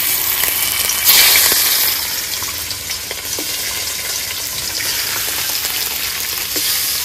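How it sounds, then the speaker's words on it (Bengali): Foli fish fry in a hot pan with a loud, steady sizzle and crackle, close up and dominant throughout, with a brief surge of spattering near the start and no voices. "এবার আমি ফলই মাছগুলো ভেজে নেব।"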